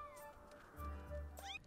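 A cat in a video game lets out a few quick meows close up, ending on a higher, sliding cry.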